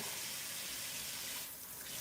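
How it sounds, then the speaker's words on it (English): Cold tap water runs steadily over frozen lobster in a sink to thaw it, a continuous close splashing wash with no talk. "run it under, not even lukewarm, but cold water. Run it in there. That's what I'm doing now."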